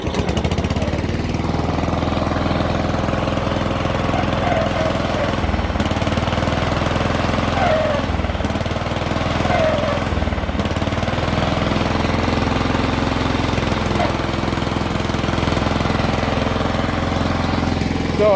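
A tractor engine idles steadily with its brake pedal locked on, a continuous rough, knocking mechanical drone heard up close for the whole stretch with no talking.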